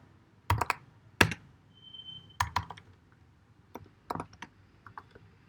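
Keys clacking on a computer keyboard, sparse bursts of close, crisp taps with short pauses between them, as someone types a short list of words.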